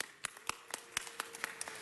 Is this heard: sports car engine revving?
no